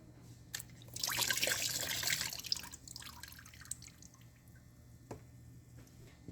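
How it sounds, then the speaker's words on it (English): Coolant drains out of a disconnected hose on a 2012-2014 Toyota RAV4 EV, first a brief gushing spill, then scattered drips and small splashes into a catch pan, close and fairly quiet. "Now that the coolant has been drained,"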